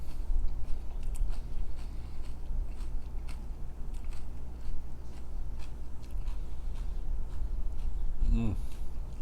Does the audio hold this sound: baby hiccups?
no